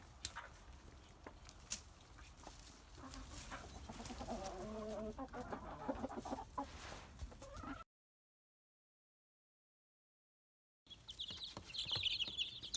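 A crowded brooder full of chicks gives off a dense chirping and shuffling din close up, cutting to brief silence before the high peeping resumes loudly.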